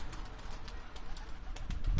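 Soft cooing of tumbler pigeons blends into steady outdoor background noise, with low murmuring coos rising slightly toward the end.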